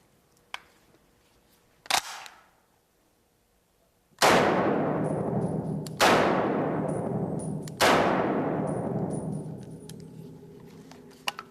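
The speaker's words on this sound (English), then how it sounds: "this is a Browning .30-06 caliber semi-automatic rifle, and this is used more so in hunting" Three loud, sharp rifle shots from a Browning .30-06 semi-automatic hunting rifle on an outdoor range, evenly spaced about two seconds apart, each followed by a long booming echo, after a couple of smaller clicks and knocks.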